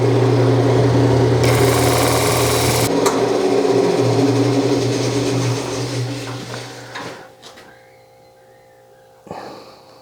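A segmented wood ring spins on a lathe while sandpaper is pressed against it, giving a steady loud motor whine and abrasive hiss that dies away as the lathe winds down near the end.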